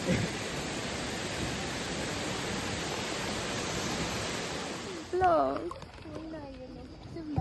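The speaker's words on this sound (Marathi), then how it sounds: "आणि ते छोटासा वॉटरफॉल पण आहे" A small waterfall in Martvili canyon pours with a steady broadband rush that fills the first five seconds, then drops back as voices talk nearby over the fainter water.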